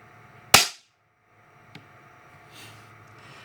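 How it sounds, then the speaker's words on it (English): A Weihrauch HW40 PCA .177 recoilless air pistol fires a single sharp, close crack that dies away quickly. A faint small click and some quiet handling noise follow. "now I'm going to break the trigger, and I'll watch for any creep"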